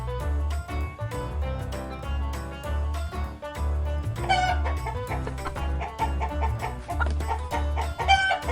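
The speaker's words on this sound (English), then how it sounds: "chicken" Chicken clucking over a bouncy children's farm-animal song, a rhythmic music bed with beats running throughout beneath the bird calls.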